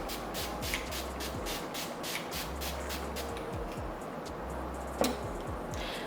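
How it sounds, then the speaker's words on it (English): Several quick, hissing spritzes of Urban Decay All Nighter setting spray onto a face in a rhythmic series, close up, then a brief clack near the end. "Now I'm going with my Urban Decay All Nighter setting spray on top."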